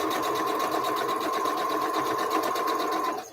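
Long arm quilting sewing machine stitching a quilt, a steady fast whirring hum with a rapid needle pulse, close and even throughout before stopping at the end.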